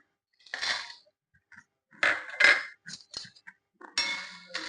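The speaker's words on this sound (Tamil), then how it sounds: "இப்போ வத்தலை போட்டுடலாம்" Dried turkey berries dropped into a pan for roasting: bursts of rattling and pattering as small hard berries hit the metal, in several separate pours with quiet gaps between, close and crisp.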